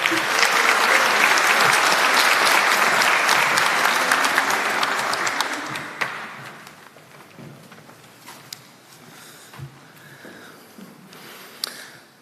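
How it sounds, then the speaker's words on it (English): An audience at the Moana Connect launch gives a full round of applause, loud and dense for about six seconds before thinning to a few scattered claps and faint room noise. "If we could please give her a round of applause"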